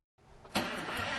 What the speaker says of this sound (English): Ford 534 cubic inch beast. 725 horsepower.